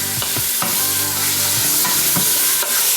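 Meat browns in an Instant Pot with a loud, dense, continuous sizzle and spatter, punctuated by repeated scraping and knocking of a utensil against the pot, close up and without speech.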